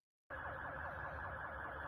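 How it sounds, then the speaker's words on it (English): A wailing emergency siren sweeps up and down continuously, fairly distant and faint, with no voices. "That's ice and sirens."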